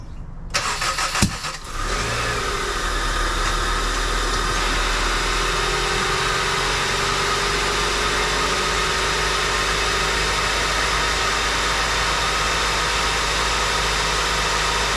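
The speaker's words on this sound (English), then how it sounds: "So the CRV turns on and it actually sounds really good." A Honda CR-V RD1 with a five-speed manual and AWD cranks briefly, catches and settles into a steady, smooth idle that runs loud and close for the remaining stretch, with no voices.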